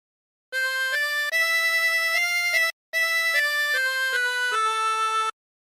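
A 24-hole tremolo harmonica plays a short God Rest Ye Merry Gentlemen phrase: a run of sustained, wavering reedy notes stepping through the melody, close and clear, with one brief breath gap midway and no voices.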